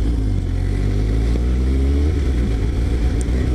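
A Suzuki GSX-S750A motorcycle engine runs while being ridden, giving a loud, continuous low drone with a steady pitch and slight rising tones midway, heard close with no speech.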